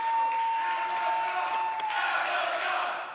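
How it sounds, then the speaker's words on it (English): A wrestling arena crowd roars and cheers, a broad sustained wall of shouting and whoops that swells toward the end, with a faint steady tone running through the first half. "Listen to this crowd."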